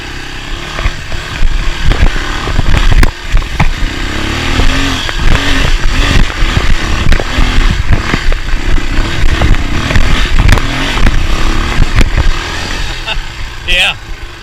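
Dirt bike descending a steep mountain trail in Alaska, its engine loud and close, revving and dropping in uneven bursts with throttle blips, while the rider talks over it.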